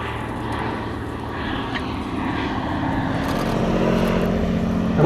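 A Bristol F.2B two-seater fighter biplane flies past with a steady propeller-engine drone that builds slightly louder toward the end, heard alone without talk.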